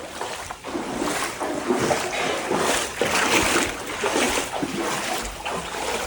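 Steady broadband rush of churning floodwater pouring into a house, close and fairly loud, with splashing surges rising and falling throughout and no voices.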